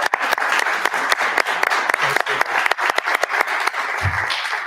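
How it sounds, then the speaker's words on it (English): Audience applause at a live community legislative gathering: a steady patter of many hands clapping, fairly close, lasting several seconds and thinning slightly toward the end. "So I'm just going to give a round of applause for you guys."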